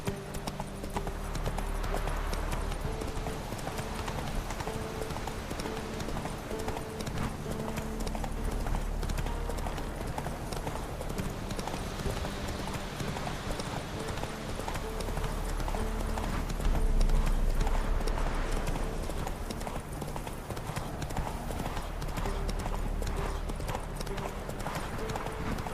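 Roach the horse trots in The Witcher 3: Wild Hunt, a steady rhythmic clip-clop of hooves over a continuous in-game ambience, close and even throughout, with no talk.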